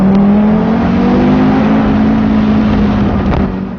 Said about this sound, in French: le meilleur, c'est quand même le bruit du 5 cylindres et celui de l'échappement